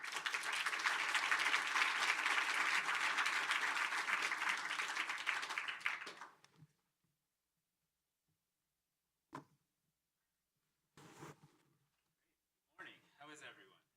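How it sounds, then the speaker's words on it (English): An audience at a UN General Assembly week event breaks into full, dense applause that lasts about six seconds and then cuts off, followed by silence and a few brief bursts of speech. "Please give them a round of applause."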